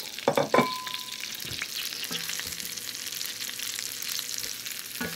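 Chopped orange pepper, celery and onion frying in a skillet, a soft steady sizzle after a few clanks of a utensil at the start and a brief knock near the end.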